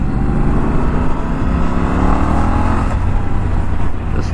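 A Triumph Scrambler 1200 XC/XE motorcycle rides with a loud, steady engine drone and heavy wind rumble, the engine note sliding gently as it pulls along.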